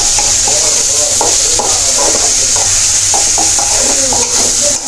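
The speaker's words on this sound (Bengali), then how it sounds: "সেটা ভাজা ভাজা হোক।" Dried fish sizzles in a pan with onion, salt and green chilies, a loud continuous crackle and hiss broken by repeated scraping stirs of a spatula, close up with no talking.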